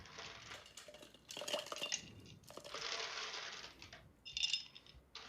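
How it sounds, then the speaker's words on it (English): Ice cubes dropped into a drinking glass while a cocktail is made, giving a series of clinking, rattling hits in several bursts, fairly close and moderately loud with no talking. "Ice goes in the glass."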